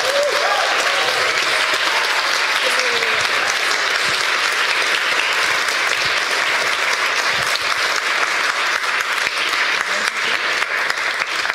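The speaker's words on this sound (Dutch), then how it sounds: "allereerst echt een daverend applaus voor Lisa Hu en het spel van Terra Nova" Loud, sustained audience applause at a Dutch civic-education event at De Balie, broad and continuous with a few voices briefly audible at the start.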